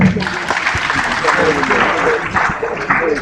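Loud, continuous crowd applause at an engineering society induction ceremony in Osogbo, dense clapping from many hands with scattered voices and shouts mixed in throughout.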